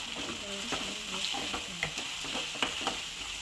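Spices and ginger-garlic paste roast and stir in a hot pan for soya chunk keema, a steady close sizzle broken by scraping stirs and light clicks of the spoon.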